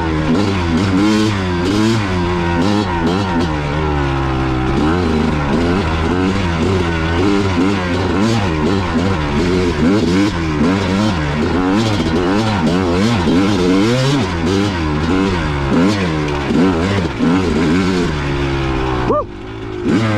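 A 2002 Kawasaki KX250 two-stroke dirt bike revs hard and repeatedly on the Backbone Trail at Hungry Valley, loud and close, its pitch rising and falling in quick cycles before cutting briefly near the end.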